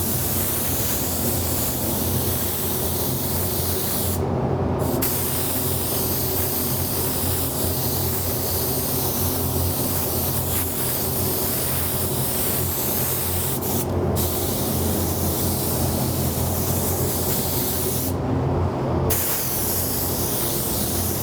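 Spray gun laying a medium wet coat of clear over a pearl-flake painted buoy in a paint booth, a steady continuous hiss running throughout with a few brief pauses between passes.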